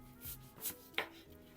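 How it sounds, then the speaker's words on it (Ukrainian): An onion is roughly chopped with a kitchen knife while preparing a side dish for tuna: three soft, separate cuts on a board, quiet and close, with no talking. "Ріжу її практично хаотично, можна різати великими шматочками"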